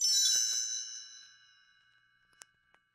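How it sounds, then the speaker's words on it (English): Bright metallic page-turn chimes for a read-along story ring out together, then shimmer and slowly fade, with two small tinkling strikes near the end. "You will know it is time to turn the page when you hear the chimes ring like this."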